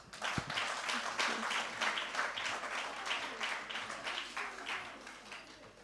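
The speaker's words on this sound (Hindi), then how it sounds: "आइए इस सुंदर प्रस्तुति के लिए थोड़ी तालियां हो जाएं" Audience at a youth Hindi event clapping for a performance, a lively round of applause with distinct, somewhat rhythmic hand claps from a modest crowd, steady across the whole stretch.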